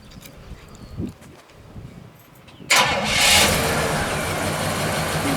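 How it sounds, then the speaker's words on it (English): A 1967 Pontiac LeMans with numbers-matching engine makes a cold start: brief quiet handling noises, then the engine cranks and catches abruptly, flaring loudly before settling into a steady, close, throaty idle. "we figured this one we'd do a cold start just to show you how easy this car starts"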